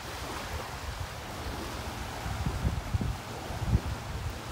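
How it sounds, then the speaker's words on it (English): Steady wind gusts buffeting the microphone on Delnor-Wiggins beach in North Naples, Florida, with a low rumbling roar over distant surf, growing slightly stronger toward the end, no voices. "But that wind's hitting me right in the face now."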